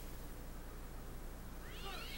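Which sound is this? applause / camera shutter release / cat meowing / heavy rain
cat meowing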